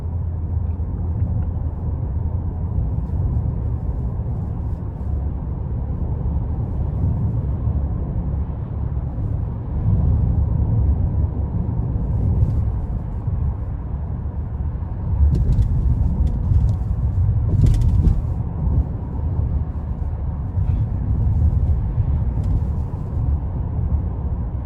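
A 2021 Buick Enclave Avenir SUV rolling along a road over filled potholes at around 40, heard from inside the cabin as a continuous low road rumble with a few soft thumps.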